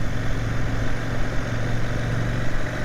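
A CFMOTO 800NK motorcycle engine running steadily at about 2,800 rpm with revs sticking, a close, continuous droning hum with no talk.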